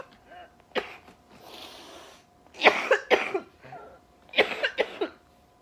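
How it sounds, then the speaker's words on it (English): A person coughs several times in short clustered bursts, close and fairly loud, during a casual podcast recording with quiet pauses between. "I've had this horrible cough for, like, the longest time."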